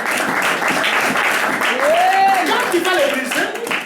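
A church congregation applauds and cheers to acclaim the Lord at an evangelistic service, with steady dense clapping throughout and voices rising over it.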